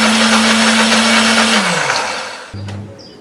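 A kitchen blender whirs loudly and steadily, grinding spices and ginger with a little added water, then spins down and stops, followed by a brief restart at the end.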